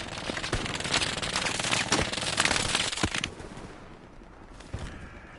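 Rapid bursts of machine gun fire in the Hell Let Loose battlefield game, loud and dense crackling volleys for about three seconds, then trailing off to quieter distant shots.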